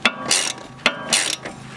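Ratchet clicking as a bolt is tightened on the front brakes of a 2001 Audi A4 Avant, two quick bursts of close, crisp pawl clicks separated by brief pauses.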